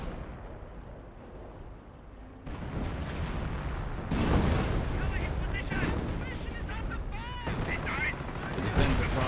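An artillery barrage in the WWII strategy game Company of Heroes, with loud, dense booms and rolling gunfire that swell and overlap continuously, along with whistling shell sounds amid the din.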